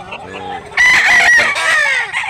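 A large rooster crows loudly and close by, one long strained call that wavers and falls away toward the end, with a few softer clucks and faint background sounds before it.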